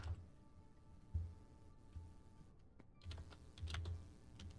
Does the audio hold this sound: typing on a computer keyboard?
yes